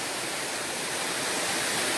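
The Río Manatí rushes steadily into a natural pool near Loma de Cabrera, Dajabón, with a loud, continuous roar of running water close at hand.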